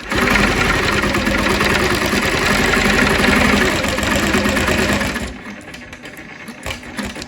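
A quilting machine stitches a lotus flower wholecloth quilt beside the ditch, a loud, steady mechanical hum running for about five seconds before stopping, followed by quiet handling noises.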